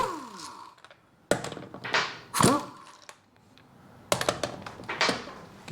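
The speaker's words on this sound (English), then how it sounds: "I'm just going to spin these bolts off." Wheel bolts spun off the rear wheel of a 2013 Mini Cooper D 1.6 diesel during a brake job, with sharp metallic clicks, rattles and a ratcheting whir in separate bursts at close range.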